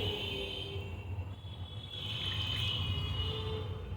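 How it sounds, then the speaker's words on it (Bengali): Marinade rinse water poured into chicken in a pan on medium flame for chicken Afghani, a steady running liquid pour heard close and alone with a low background rumble. "এবার ফ্লেমটাকে মিডিয়াম করে এই ম্যারিনেশনের ধোয়া জলটা এর মধ্যে দিয়ে দেবো"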